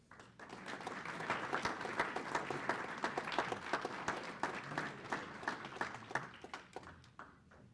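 An audience at a board of education meeting gives a round of applause, many hands clapping steadily for several seconds, moderately distant and fairly soft, with no talk on top.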